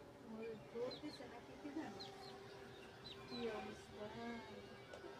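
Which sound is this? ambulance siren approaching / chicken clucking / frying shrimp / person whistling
chicken clucking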